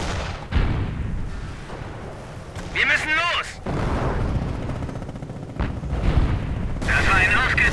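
Gunfire and artillery booms from the World War II strategy game Company of Heroes, with the Stalingrad 42 mod, sound in repeated bursts under German soldier voices and radio chatter, with a whistling shell passing midway.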